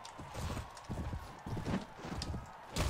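A horse gallops in the video game Mount & Blade: Warband, with rapid, rhythmic hoof clip-clops close by. Muffled game noise runs underneath.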